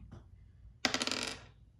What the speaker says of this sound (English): Okay, so we're gonna roll the dice.